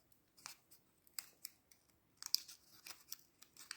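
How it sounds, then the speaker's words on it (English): Scissors snip through a folded paper semicircle for a simple handmade birthday card flower, a series of faint, crisp, irregular cuts close by in an otherwise quiet room. "So now I'm just going to cut this semicircle."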